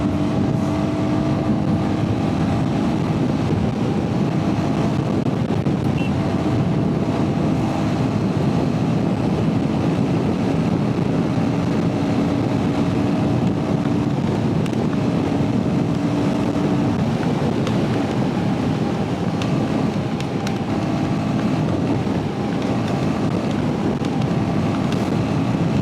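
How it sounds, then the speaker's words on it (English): A Royal Enfield Himalayan motorcycle rides at speed on an open stretch of road, giving a loud, continuous engine drone heavily mixed with roaring wind buffeting the microphone throughout. "I'll just try pushing this bike, and this is the speed you'll attain in no time."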